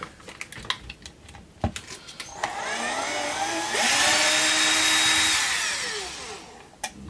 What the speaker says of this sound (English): Don't use electric screwdrivers on your guitar.